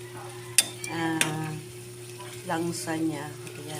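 Chicken sautéing in a pan for adobo, a soft sizzle with stirring clatter and a couple of sharp utensil knocks, heard under someone talking in Filipino.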